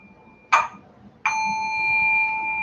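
Two small bells are struck at the start of a Buddhist evening service: a short ding, then a second clear strike that rings on with a sustained, steady tone.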